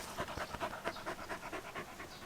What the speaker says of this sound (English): I wish the dog was friendlier. The dog needs to get used to you.